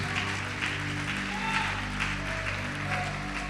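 Loud applause from a church congregation fills the space, with many hands clapping in an even, continuous roar and faint crowd murmur beneath.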